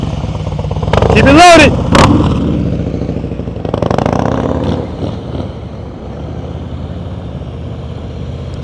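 A motorcycle rolls slowly through a tight turn during advanced slow-speed riding practice in Maryland, its engine a steady low drone with a brief louder swell early on, under an instructor's spoken coaching.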